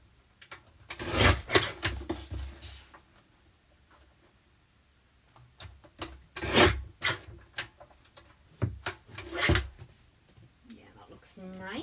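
A paper trimmer slices through cardstock in several separate rasping strokes, close and fairly loud, with quiet pauses between them and a voice talking nearby.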